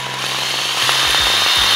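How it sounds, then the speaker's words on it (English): A cordless drill spins a fishing reel spool with line taped onto it, a loud motor whine that revs up and down in several quick pitch dips over the steady spinning. "a cordless drill, tape it onto the bad boy and spin it out"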